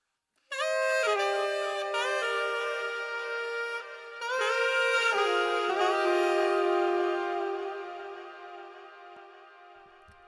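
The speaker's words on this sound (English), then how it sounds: "him playing saxophone and just kind of fucking wailing for that" Saxophone wailing over a song outro, sustained bending notes that swell, dip briefly, then return loud and slowly fade, heard alone.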